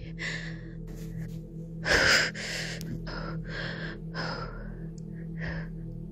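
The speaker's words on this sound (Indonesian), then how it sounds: "Dengan nafas yang masih ngos-ngosan" A person pants heavily, out of breath, with a series of quick gasping breaths and one louder gasp near the middle, close and alone over a steady low hum.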